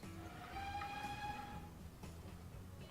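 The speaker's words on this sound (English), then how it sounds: "now we gotta reverse this train" A train in the Transport Fever simulation sounds a long tonal horn or whistle over a steady low rumble of rolling stock, the tone fading after about a second and a half.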